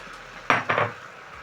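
Parboiled lentils stirred into tomato sauce in a cooking pot give two quick close scrapes and knocks of a utensil against the pot, then quiet.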